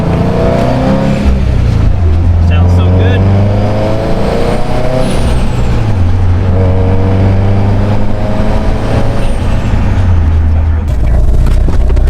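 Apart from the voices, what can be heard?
car engine revving with turbo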